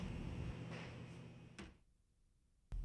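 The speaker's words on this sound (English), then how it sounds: "Close and latch the cubicle door." A switchgear cubicle door swings shut and latches, with a sharp metallic clunk at the close and a second clack as the latch engages, heard close up over a steady background hum with no talking.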